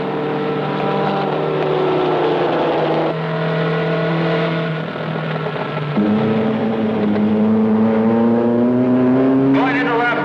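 Lotus Formula 20 race cars on a track in a film, close, loud engine whines that hold steady, drop and then climb again as the cars accelerate, with a second engine joining near the end, under an announcer's commentary.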